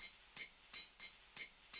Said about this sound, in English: Forge hammer is really loud